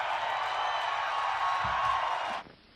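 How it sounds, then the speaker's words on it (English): A meeting audience at a heritage museum's annual gathering applauds the volunteer of the year, a dense, steady wash of clapping with some cheering that suddenly cuts off near the end. "let's give a round of applause to Tara"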